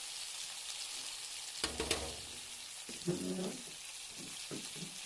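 Spice paste with turmeric and chilli powder frying in a pan for potato dum, a soft steady sizzle broken by a couple of louder bursts and clatters as it is stirred, quiet and close.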